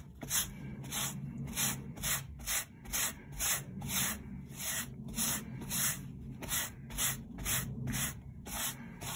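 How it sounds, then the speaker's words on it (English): Brush scrubbing a deodorant stain on clothing, a rhythmic series of quick bristly strokes, about two per second, close and fairly quiet. "brush that stuff in there"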